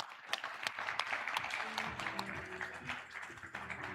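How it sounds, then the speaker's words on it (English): Audience applause at a tech developer summit in Seoul, steady and moderately loud, with voices mixed in as a speaker comes to the stage. "give him a nice round of applause"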